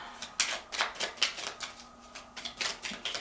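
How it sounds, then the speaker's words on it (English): Tarot-style faery cards are shuffled and handled in a string of quick papery riffles and flicks, close and fairly quiet, with a steady rhythm of soft bursts and no talking. "We'll pull 3 cards."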